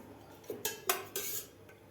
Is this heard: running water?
no